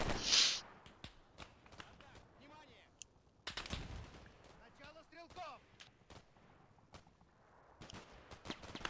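An M240 machine gun fires in a combat video game in repeated sharp bursts and single cracks scattered throughout, with heavy distant explosions and a voice talking intermittently.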